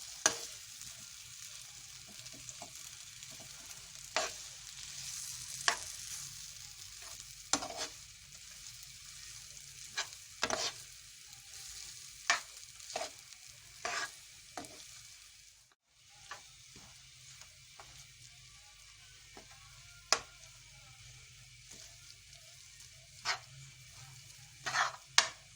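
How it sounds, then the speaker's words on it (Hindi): Samosa potato filling of boiled potatoes stir-fried in a pan, with a quiet steady sizzle broken by scattered scraping and tapping of a spoon against the pan, no talk heard. "इसे 2 से 3 मिनट भूनना है इसमें।"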